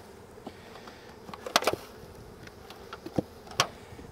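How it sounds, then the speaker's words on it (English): Honey bees buzz softly around an opened hive while colonies are combined, a low steady drone broken by several sharp knocks and handling clicks of frames and boxes. "Knock them bees back down in there."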